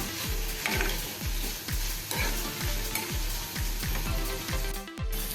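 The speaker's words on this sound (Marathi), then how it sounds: "एक टेबलस्पून आलं लसूण घेतलेलं आहे कुटून घेतलेलं आहे ते पण आता ह्याच्याबरोबर आपण फ्राय करूया" Onions and crushed ginger-garlic frying in a pan for egg masala, a loud continuous sizzle broken by regular rhythmic scraping strokes of a spatula stirring, close up, with a sharp clack near the end.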